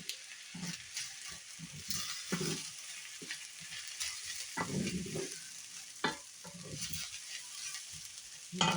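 Vegetarian fried rice frying and being stirred in a pan with teriyaki sauce, soy sauce and ground ginger, steady close sizzling with repeated scraping stirs and clanks throughout.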